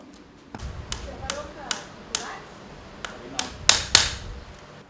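Small nails are hammered into a horseshoe hoof guard with about ten sharp, ringing metallic strikes at an uneven pace, the last blows hardest, with quiet talk in the background.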